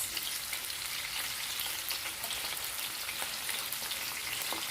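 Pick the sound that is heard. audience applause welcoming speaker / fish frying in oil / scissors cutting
fish frying in oil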